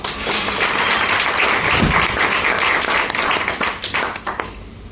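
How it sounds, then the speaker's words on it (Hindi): An audience at a motivational leadership talk applauds for themselves, with dense, steady clapping sustained throughout and a thud partway through, fairly loud and close in a hall, tapering slightly toward the end. "तो अपने लिए तालियां बजा लीजिए।"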